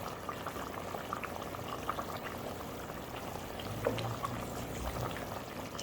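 A pot of silver trevally fish curry simmers on the stove with a continuous bubbling, gurgling hiss at moderate volume and no voices over it.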